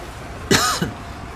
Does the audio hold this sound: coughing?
yes